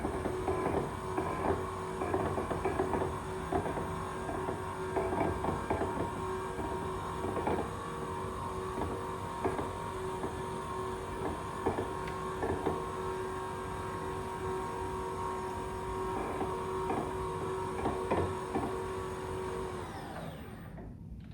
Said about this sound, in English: Now, the machine can be lowered now to the lowest height.